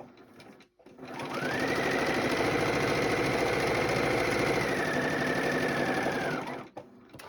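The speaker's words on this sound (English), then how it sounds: "we will get them stitched 1/4 inch down that 1/4 inch seam" A sewing machine running a quarter-inch seam on quilt pieces, its steady rapid motor hum and needle chatter close and continuous for about six seconds, then stopping.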